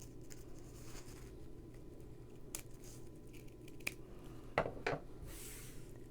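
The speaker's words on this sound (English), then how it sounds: "I'm going to cut on the open edge a triangle from one corner to the middle and to the other corner again" Scissors snip a triangle into folded tissue paper for a flower, a few quiet crisp cuts and paper rustles, close and soft against a faint steady background hum, no talk.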